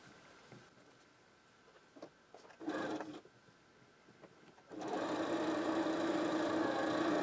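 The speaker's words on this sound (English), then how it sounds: "And we'll sew them together like this." A sewing machine sews quilt block pieces together, starting with light handling and a brief whir, then running in a steady, close, continuous hum of stitching to the end.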